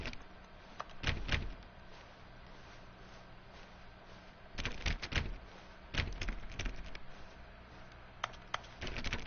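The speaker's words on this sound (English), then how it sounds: "Let me just tap on every door." Doors in a video game office are clicked one after another, making sharp clustered taps and clunks in irregular bursts over a quiet background hum, with no talking.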